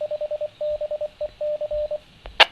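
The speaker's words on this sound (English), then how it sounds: "That was the local repeater. That's the call sign in Morse code, W5BEC." A local amateur radio repeater's call sign sent in Morse code through a Yaesu VX-170 handheld radio: a clean, steady tone keyed in short and long beeps, ending with a brief click of static.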